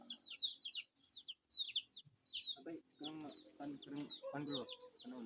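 Chickens cluck repeatedly nearby, with high chirping calls from chicks or small birds at first, then lower throaty clucks running steadily.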